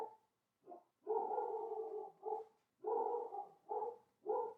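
A dog barks repeatedly indoors, with about six short and longer barks in an uneven rhythm, separated by brief silences, moderately loud and with no talking over them.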